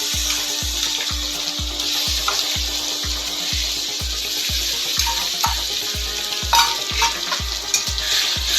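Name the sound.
frying garlic, ginger and onion paste in oil for bhetki jhal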